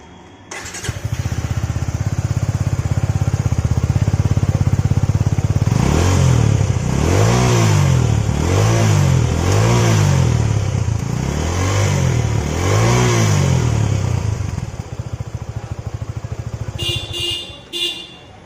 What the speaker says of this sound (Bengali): এবার আপনাদের ইঞ্জিনের সাউন্ডটা শুনিয়ে দিই।